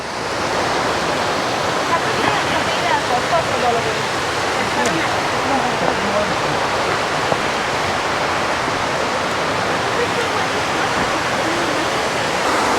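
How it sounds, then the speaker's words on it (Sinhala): A waterfall in the Grampians, Australia, pours as a loud, constant broadband roar from nearby, unbroken for the whole stretch. "මේක තමයි දියැල"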